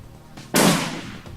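A single sharp gunshot in the video game Shadowrun Returns, a loud close crack followed by a decaying tail, with a faint softer click just before it.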